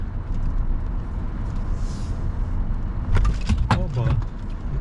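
A car drives along a road on the way to a market and hits a pothole, with steady cabin road rumble broken by a cluster of sharp jolts and rattles near the end.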